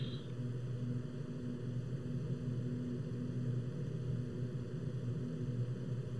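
Steady droning hum of a propeller airplane's engines in the FSX flight simulator, a constant even tone with no breaks, heard alone without talk at moderate level.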